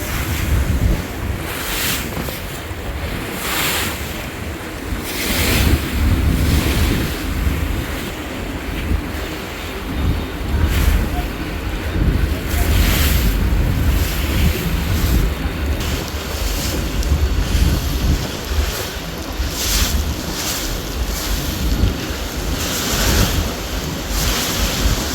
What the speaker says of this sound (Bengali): এই নদী আসলেই চরম উত্তাল